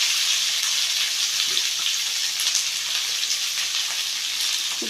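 Onions sautéing in a pan for a Tamil-style onion tomato chutney give a steady, close, broadband sizzle that keeps up evenly throughout with faint stirring touches and no talk.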